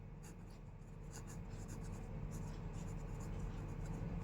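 Pen writing on paper while a maths exercise on bathroom door width is worked through in a class 9 lesson: a steady, close scratching runs the full length, with no talk over it.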